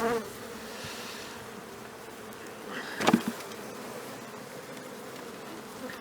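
A dense, steady buzzing of many honeybees at the hive fills the space at close range, with a brief louder rustle in the middle.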